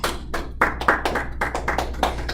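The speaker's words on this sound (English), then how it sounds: "I got a round of applause." A small group claps for a couple of seconds in a classroom, a brief round of applause with sharp uneven hand claps.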